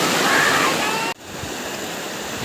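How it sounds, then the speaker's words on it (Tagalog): River water rushing loudly and steadily up close, abruptly cutting to a quieter, softer flow partway through. "Ito po yung ilog namin liliguan."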